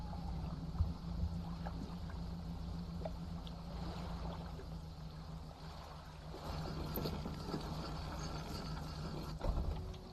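Steady boat engine hum from the fishing game Dredge, with water washing and sloshing around the hull, continuous and fairly close with no talking.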